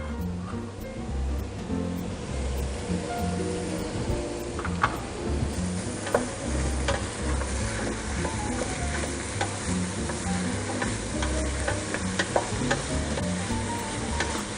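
Onions and vegetables for a West Indian vegetable curry sweat in a pan with a steady, close sizzle, punctuated by scattered small ticks and stirring clicks throughout.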